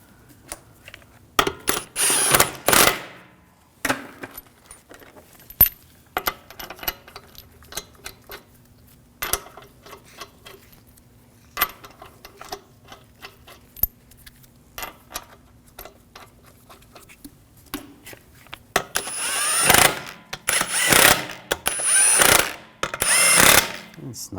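Lug bolts on a Volvo S60 wheel being snugged down with a tool, bursts of loud whirring at the start and end with quieter clicks and clatter between.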